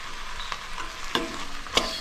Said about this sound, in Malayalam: ഇതിൻ്റെ പൊടിയുടെയൊക്കെ പച്ച മണം ഒന്ന് മാറുന്നത് വരെ ഒന്ന് നന്നായിട്ട് ഇളക്കി യോജിപ്പിക്കുക